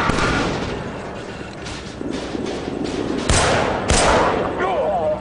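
Gunfire in the Killzone 3 shooter game, with a few sharp booming shots and rumbling blasts over steady battle noise, while a voice talks over it.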